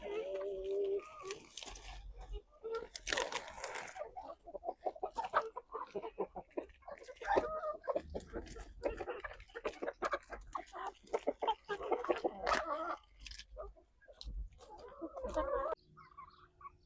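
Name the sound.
domestic birds clucking while being fed leaves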